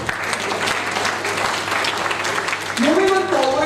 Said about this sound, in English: Once again, a huge round of applause for Dr. Lokesh.